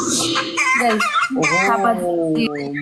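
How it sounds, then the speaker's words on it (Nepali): A rooster crows loudly and close by, a long harmonic call stretched over a couple of seconds, with voices and clucking mixed around it. "भाले बास्या छ त"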